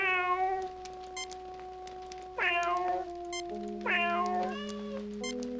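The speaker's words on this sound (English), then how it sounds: "Nice cat." A cat meows in the Star Trek: Judgment Rites video game, three clear drawn-out meows spaced a second or so apart over a low steady background hum, with no talking.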